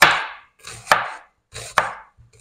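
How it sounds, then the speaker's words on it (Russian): Onion being sliced into half-rings with a knife on a cutting board while kebabs fry, heard as three crisp, separate chops with short pauses between, close and clear, with no talking. "я нарежу для него лучок."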